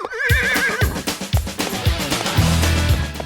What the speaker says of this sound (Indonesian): Di sini ada dua jenis kuda yang diperuntukkan sebagai alat transportasi tradisional.